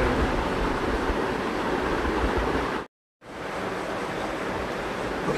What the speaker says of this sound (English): So this is why we are sprinkling water over the aqua soil.